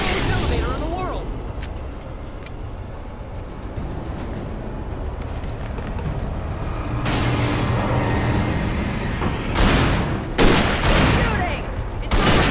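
Rapid gunfire in the video game Alan Wake during a tornado storm sequence, dense bursts of shots over a roaring background, heaviest near the end, with no clear talk.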